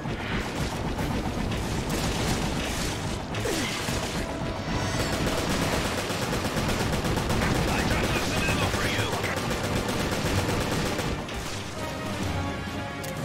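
Gunfire in the video game Resident Evil Revelations, a dense stretch of rapid shots and crashing impacts filling the whole span, loud and continuous with brief uneven gaps.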